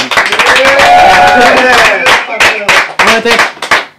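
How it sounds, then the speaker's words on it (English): An audience at a late-night talk show claps in a dense burst of applause that thins into scattered claps, with a voice speaking loudly over it. "A round of applause"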